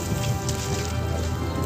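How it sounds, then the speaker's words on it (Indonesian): Steady rain falling in a cartoon scene set in Komodo National Park, a dense, even patter of drops heard close and alone for a short stretch without any talking. "Hujan. Hujan."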